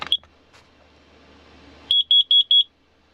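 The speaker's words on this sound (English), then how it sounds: "right there is my carbon monoxide detector," A carbon monoxide detector in an RV van gives one short chirp, falls quiet, then sounds five loud, evenly spaced beeps close by.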